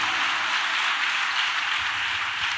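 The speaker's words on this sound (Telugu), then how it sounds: "చప్పట్లు కొడదు మందిరం గట్టిగా" A church congregation at a church opening claps together in a steady, dense wash of applause that stays even and moderately loud throughout, with no voices standing out.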